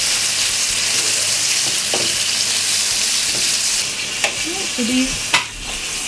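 Nashville style chicken pieces sizzle and fry loudly in a pan of hot oil, a steady bright crackle throughout, with a few clinks as the pieces are flipped and a brief spoken word.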